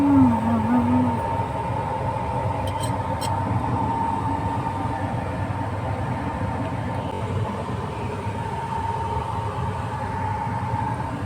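A train rolls through Kalol railway station near Gandhinagar, a steady loud rumble of wheels and carriages continuing throughout, with a faint tonal whine near the start and brief clicks early on.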